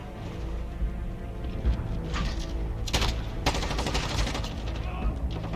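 Rapid bursts of PKM light machine gun fire in the shooter game Modern Warfare, dense automatic volleys layered over ongoing game sounds and effects, with sharper crackling bursts around the middle.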